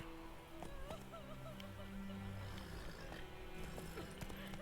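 Hooves of Roach, a horse in The Witcher video game, clip-clopping softly beneath game music and ambient tones, a few scattered footfalls at a walking pace, fairly faint overall.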